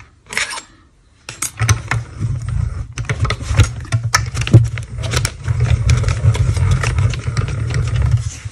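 A die-cutting machine runs paper through with a thanks die, giving a low steady rumbling grind with clicks and scrapes after a brief rattle and short pause at the start, close and fairly loud.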